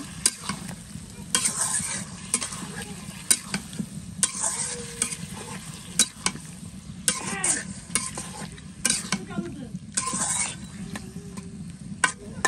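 Food being sautéed and stirred in a pan at home: steady sizzling frying under repeated scraping strokes of a spoon, close and continuous with no talking.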